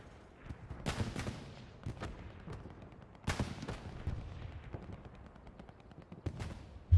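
Distant video game gunfire from trench fighting, a scattered series of faint, sharp shots and short bursts with a few heavier booms, irregularly spaced and low in level.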